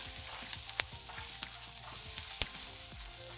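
Shishito peppers frying in oil in a pan, a steady low sizzle broken by occasional sharp pops and the scrape of stirring, close by with no voices.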